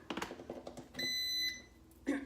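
A Baby Bullet baby-food steamer gives a single electronic beep of about half a second as it switches on, amid quiet handling noises in a kitchen.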